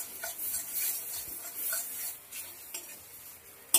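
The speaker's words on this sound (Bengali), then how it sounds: "খুন্তি দিয়ে ভালোভাবে এভাবে সুন্দর করে করে নিতে হবে।" A spatula stirs and mashes a fried raw banana-peel paste in a pan, giving a steady run of scraping, rasping strokes with a few light metallic taps, close and alone with no talk.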